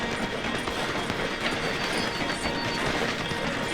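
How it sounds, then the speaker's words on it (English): A slowing train in Red Dead Redemption 2 passes through a station as a continuous, dense mechanical rattle and rumble with clanking wheels, steady and fairly loud throughout. "The train is slowing down to go through the station"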